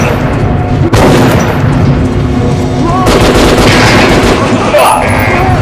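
Loud gunfire from target practice in the video game Metro 2033, sharp reports at about one second and three seconds with dense ringing noise between and faint game sounds underneath.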